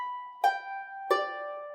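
A harp playing a simple beginner tune as it slows down: two plucked notes spaced apart, each ringing on with a soft decay over a lingering tone, quiet and alone.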